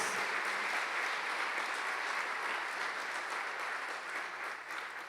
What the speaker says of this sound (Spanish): dale un fuerte aplauso al Rey de Reyes y Señor de señores